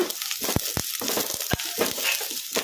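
Green chilies and curry leaves frying in oil in a pan while being stirred, giving steady close sizzling with several sharp scraping and clattering strokes from the stirring.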